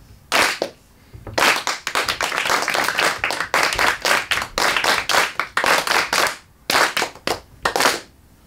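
A group clapping hands in a head-shoulders-clap-knees body-percussion game, crisp sharp claps close up in quick, fairly regular bursts with short pauses between phrases; no voices.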